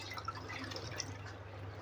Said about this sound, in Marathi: साधं पाणी आपल्याला वरती टाकून हे परत आपल्याला धुवून घ्यायचं आहे